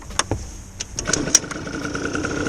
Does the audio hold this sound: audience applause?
no